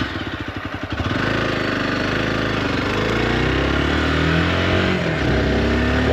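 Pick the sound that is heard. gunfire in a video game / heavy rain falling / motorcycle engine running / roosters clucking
motorcycle engine running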